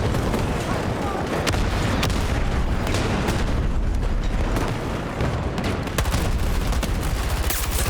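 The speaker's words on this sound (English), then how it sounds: "So many explosions." Dense, continuous video game battle noise with rapid gunfire and repeated booming explosions, loud and chaotic throughout, with faint voices mixed in.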